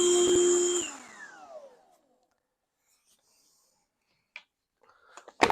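A Black & Decker Dustbuster handheld vacuum whines loudly for about a second, then winds down and fades to silence, followed by a few faint clicks and handling sounds.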